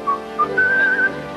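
Someone whistles a short tune: two brief chirped notes, then a longer wavering phrase, clear and close.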